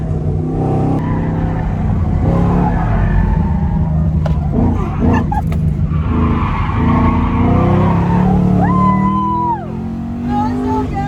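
Camaro racing supercars and Porsches on a track, engines roaring past with tire squeal and skidding noise, loud and close, with brief excited voices.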